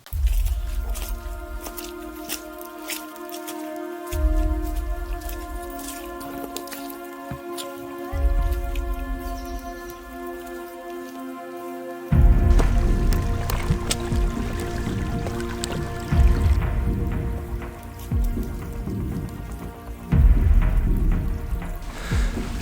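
Boots squelch and splash along a waterlogged stretch of the Limestone Way in the Peak District, the trail running like a stream, with wet squishing steps and drips heard under steady background music.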